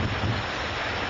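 Ocean surf at the shoreline by the US–Mexico border, a steady, dense wash of breaking water and wind noise that holds evenly through a brief moment with no voices.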